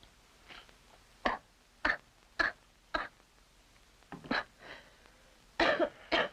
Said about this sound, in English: How long has this cough been hanging on?